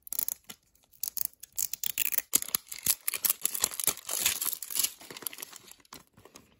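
Plastic crinkling and zipper rasping as a Zuru Mini Brands Series 3 blind bag is pulled open, a run of close, irregular crackles and short scratchy bursts, fairly quiet with no talking.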